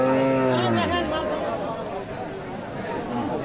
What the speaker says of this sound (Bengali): এখানে একটা গাভী বাছুর।